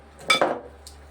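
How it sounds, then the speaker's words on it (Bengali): Palm fruit batter is stirred in a bowl, giving a brief scrape and a couple of soft utensil clinks against the dish, close and clear with no talk. "এরকমভাবে সুন্দর করে অনেকক্ষণ ধরে মেশাতে হবে"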